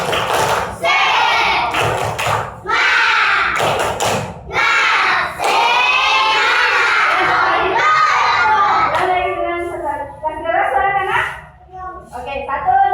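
Second-grade schoolchildren at an Indonesian primary school do a tepuk semangat clapping chant in a classroom, loud group claps in rhythmic bursts alternating with shouted chanting voices, ending in a few quieter rhythmic claps.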